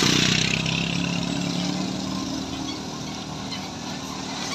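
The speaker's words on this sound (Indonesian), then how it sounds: "ada bus Putra Pelangi Scania." A Putra Pelangi Scania bus engine in Aceh drones as a steady, fairly loud rumble with low throbbing tones, easing slightly in level as it runs.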